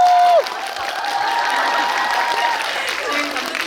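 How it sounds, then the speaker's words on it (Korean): An audience applauds the film director at a movie screening talk event, steady moderate clapping from a crowd after a brief tone, continuing evenly without voices. "장항준 감독님께 박수 한번 치고"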